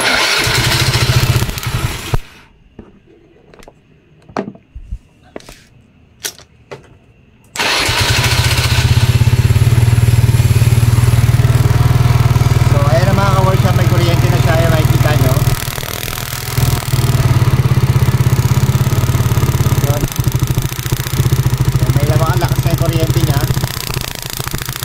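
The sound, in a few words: Euro Keyway motorcycle engine being started and running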